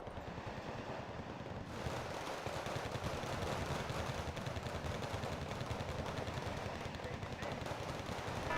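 Sustained machine-gun fire aimed at a BTR armoured vehicle in Wargame: Red Dragon, a steady rattling stream of rapid shots that carries on without a break, with faint talk partly under it.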